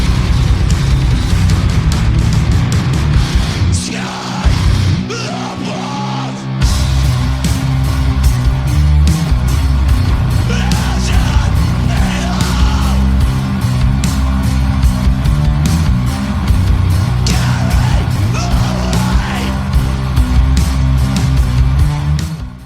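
Recorded music by a sludge metal band from Melbourne: loud, dense, distorted guitars over heavy drums, with a brief drop in intensity partway through before the full wall of sound returns.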